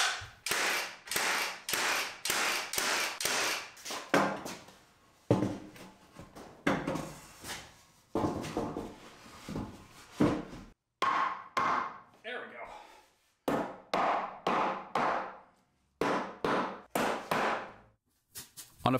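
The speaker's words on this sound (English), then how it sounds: "so I'm going to nail on an extra 2x4" Bursts of sharp, close impacts come in quick repeated clusters separated by short pauses as an extra 2x4 is nailed onto a wooden top plate in a garage.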